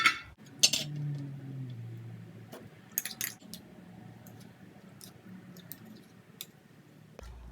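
Fresh tomato juice being pressed through a strainer with a spoon: wet squishing and scraping, with sharp metallic clinks near the start and scattered light clicks throughout, close and fairly quiet, with no talking.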